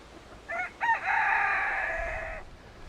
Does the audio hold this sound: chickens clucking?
yes